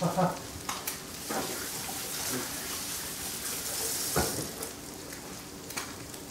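A raw crab-meat cake fries in hot oil, giving a steady close sizzle with scattered pops and clicks of handling, while a voice briefly sounds at the start.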